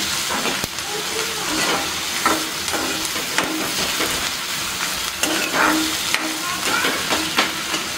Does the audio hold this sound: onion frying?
yes